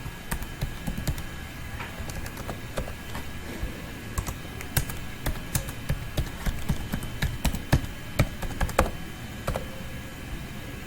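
Password typed on a computer keyboard, with steady clicking keystrokes in quick irregular bursts, close and fairly quiet over a low background hum; no talking.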